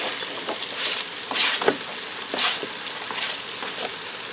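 Diced onion hits browned, drained ground beef in a Power XL Air Fryer Grill Combo, giving a steady close sizzle with soft stirring scrapes and brief louder bursts as the pieces are moved.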